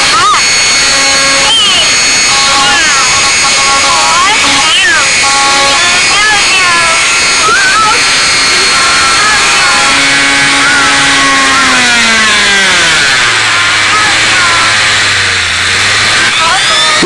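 A Dremel rotary tool cutting into a Furby toy screams with a high, loud whine that wavers as it bites, then bogs down and drops in pitch near the end, with voices talking over it.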